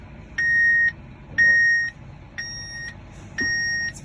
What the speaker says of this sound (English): This is our 6175R that we run on this thing, and it's beeping for me.